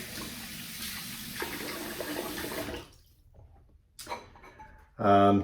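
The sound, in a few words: running water wetting face for shaving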